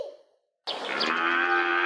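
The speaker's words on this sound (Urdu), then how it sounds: "کون سا جانور تھا یہ؟ گائے تھی." A cow moos once in a single long, loud, close call after a short quiet gap, with a fading tail of an earlier sound at the start and no talking.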